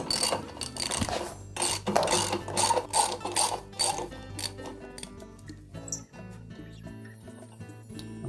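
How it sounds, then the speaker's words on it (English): A 17mm socket wrench ratchets on the rotor bolt of an LG washer during a spider assembly repair, with rapid clicking turns, a sharp snap as the bolt breaks loose, then slower mechanical clicks close by. "Now using a 17mm socket, I'm just going to give that a sharp snap to break it free."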